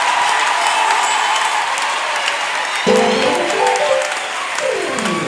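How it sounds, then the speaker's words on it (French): A church congregation applauding and cheering for Jesus Christ, steady dense clapping throughout with a brief rise of voices partway through. "Acclamons pour le Seigneur Jésus-Christ"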